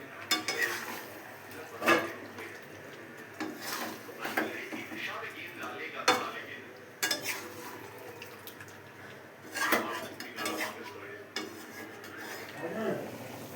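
Chicken and spinach being stirred and sautéed in a pan, with a spatula scraping and rasping in repeated bursts over a low sizzle, close up, with someone talking over it.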